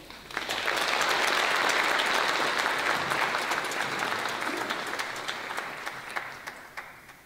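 Applause for choirs at a church concert in Floby church, a dense, steady clapping from a full audience that swells early, holds, then thins toward scattered claps near the end.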